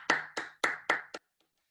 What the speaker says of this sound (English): Let's give one more big round of applause for Annalis Chaves